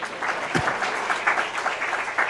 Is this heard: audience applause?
yes